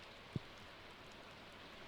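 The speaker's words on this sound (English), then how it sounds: "The valley looks more interesting in the rain" Rain falls in the video game Stardew Valley as a soft, steady, even hiss, faint and continuous, with a single brief low tap near the start and no voices.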